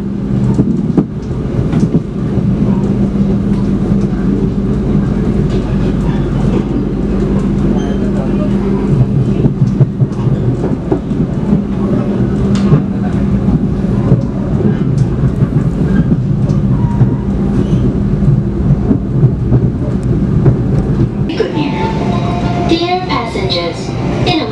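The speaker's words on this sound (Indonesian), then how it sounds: "Melintas stasiun Manggarai, tapi ini Argo Lawunya dilewatkan jalur 1" The Argo Lawu passenger train runs through Manggarai station, routed onto track 1, with a steady loud low rumble and rail clatter throughout and a voice talking over it.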